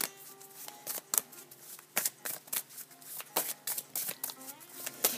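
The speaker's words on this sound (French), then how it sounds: "J'ai envie de tirer quelques cartes avec l'oracle de l'amour pour aller voir d'autres messages" Oracle love cards being shuffled and drawn by hand, a busy run of soft papery flicks, slaps and riffles in irregular bursts, close up with no voices.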